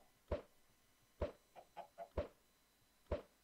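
Minecraft chicken clucking in a Minecraft Ice & Fire modded game: four sharp, evenly spaced clucks with a quick run of three softer ones between them, clear and alone with no talk.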